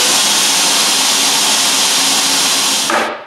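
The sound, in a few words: old CNC motor running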